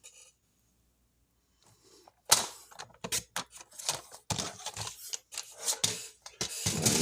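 Paper being cut for a scrapbooking craft, heard as a quick series of close, crisp snips and clacks of a paper trimmer or scissors after a near-silent start, with no talk.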